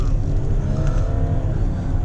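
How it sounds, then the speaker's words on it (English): A 2018 Audi Q8 50TDI diesel SUV launching hard under launch control, a loud, close engine drone with rising harmonics and road rumble throughout the short burst. "You just put your foot on the brake, floor the throttle, launch program active"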